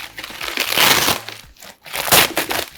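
A mail package being cut open during an unboxing: crisp crinkling and crunching of packaging material in two bursts separated by a short pause, close and fairly loud, with no talking.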